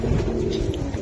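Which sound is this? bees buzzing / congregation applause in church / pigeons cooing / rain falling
pigeons cooing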